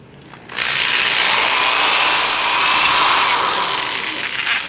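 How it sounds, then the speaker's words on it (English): A power drill whirs loudly after a brief quiet start, grinding steadily through 3/4-inch PVC pipe for several seconds with slight changes in pitch. "So just drill straight through again."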